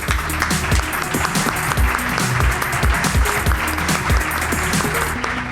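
Loud, continuous applause from a live audience at a stage show, a dense clapping wash heard close, with low rhythmic tones running beneath it.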